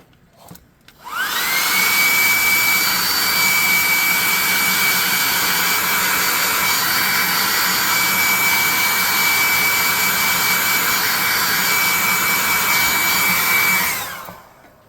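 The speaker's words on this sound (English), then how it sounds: "we're going to hit him with the hot air gun. So this is the +2 hot air gun burning." A hot air gun blasts onto a painted tabletop-game miniature, switching on with a rising whine into a loud, steady roaring hiss with a constant high tone, running close and unbroken for about twelve seconds before cutting off.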